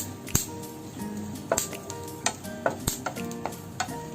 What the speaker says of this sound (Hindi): हमारी ये खरबूजे की गिरी फूल गई है और इसमें से आवाज आने लग गई है